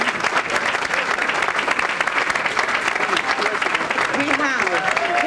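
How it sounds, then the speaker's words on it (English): An audience at a chamber of commerce awards dinner applauds the chamber staff with dense, steady clapping that holds at an even loudness across the whole stretch. "I would like to sincerely have a big round of applause for the chamber staff."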